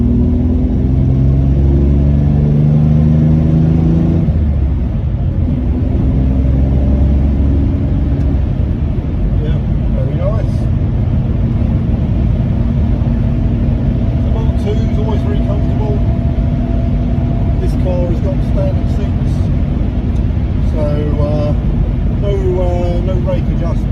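A 1962 Jaguar Mark 2 3.4 with manual gearbox and overdrive pulling hard in third gear out of a roundabout, deep engine drone rising steadily under someone talking, heard from inside the cabin.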